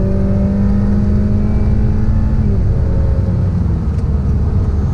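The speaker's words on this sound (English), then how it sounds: "So I will do an acceleration from a dead stop now." A 2018 Honda Accord Touring with a 2.0L turbo engine accelerates hard from a dead stop with wheel spin, a loud, steady engine drone rising in pitch inside the cabin and then settling as the car gathers speed.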